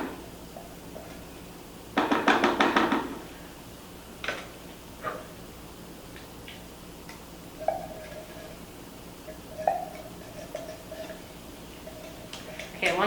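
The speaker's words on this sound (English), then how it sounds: "I'm gonna give those a stir." Mushrooms and gravy stirred in a pot in a kitchen: a short clattering scrape of the spoon early on, then sparse light taps and clinks against the pot, fairly quiet.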